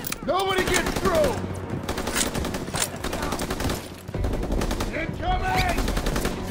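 Machine gun fire in a World War II D-Day video game battle, dense rapid bursts and overlapping gunshots going almost nonstop and loud, with shouted voices mixed into the combat.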